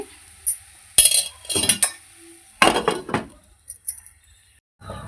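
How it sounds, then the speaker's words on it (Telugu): A few clattering metal clinks and knocks of a lid being handled and set down on a pot of chicken and gongura curry, separated by short quiet gaps, close by. "ఇప్పుడు మూత పెట్టేసుకొని"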